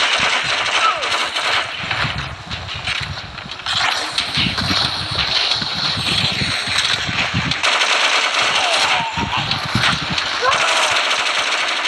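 Rapid machine gun fire and gunshots ring out in a Modern Combat 4 Zero Hour battle, dense and continuous bursts layered with game effects and radio-style voice callouts throughout.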